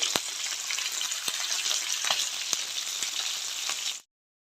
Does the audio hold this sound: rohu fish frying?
yes